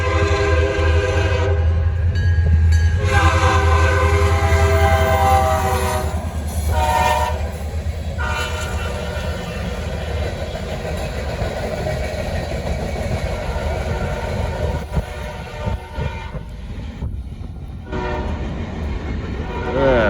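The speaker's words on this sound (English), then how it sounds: "K5HL narrow front on a 40-2." A K5HL horn on an SD40-2 locomotive hauling a southbound Norfolk Southern freight train, blowing long loud chords in repeated blasts over heavy engine rumble and clattering wheels as it passes close by.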